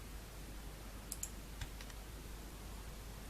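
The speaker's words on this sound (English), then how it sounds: "hit the keyboard shortcut for cut to start with" Computer keyboard shortcut keys tapped in a quiet room: a few soft, scattered clicks with short gaps, close and faint.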